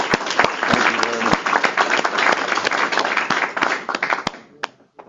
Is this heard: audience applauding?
yes